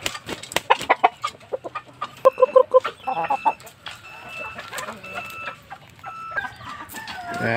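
Aseel chickens in a farm enclosure, close, loud clucking and squawking in uneven bursts with a rooster crowing partway through, and someone talking at times among the birds.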